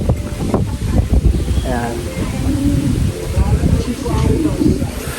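Strong wind blows outdoors at a house in a coconut-growing area, buffeting the microphone with continuous gusty rumble while people talk over it throughout.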